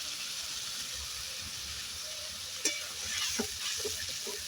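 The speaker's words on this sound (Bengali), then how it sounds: "ভেজে নেব মশলাটা ভালো করে ভেজে নিলাম" Spice paste with onion fries in oil in a pan for a koi fish curry, a faint, steady sizzle with a few soft stirring clicks toward the end.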